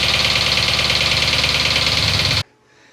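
A V8 engine from an LS swap idles with a rapid, regular knocking tick running steadily, loud and close, then cutting off abruptly near the end.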